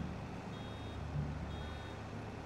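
A vehicle reversing alarm in the Farming Simulator 22 video game, steady repeated beeps under a constant low engine rumble.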